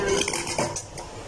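A fork scrapes and clinks against a plate while scooping up home-cooked food, several close metallic taps and scrapes in quick succession with no voices.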